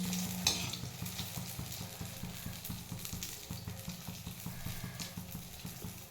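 Bhaja pitha cakes sizzle and crackle as they fry in hot oil, a steady close sputter with a faint rhythmic stirring pulse underneath and no talking.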